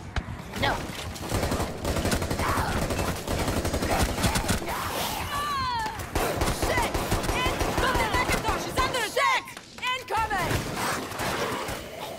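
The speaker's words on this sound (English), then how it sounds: "I missed all of my handgun shots" Handgun shots from Resident Evil Outbreak ring out as scattered, fairly faint bursts under steady game noise, with groans and voices mixed through the busy action.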